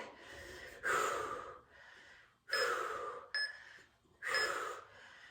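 Heavy, labored breathing during a side plank workout: three loud gasping inhales and exhales with short quieter breaths between, close to the mic and with no talk.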